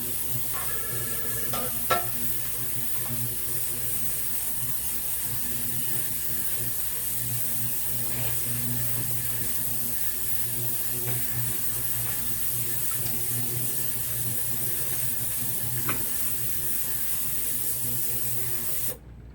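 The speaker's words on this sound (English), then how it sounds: "Going to put this in the ultrasonic solution." An ultrasonic jewelry cleaner runs with a ladies' ruby and diamond ring soaking in its solution, giving off a steady, close hiss and hum that holds evenly for about twenty seconds with a few faint clicks.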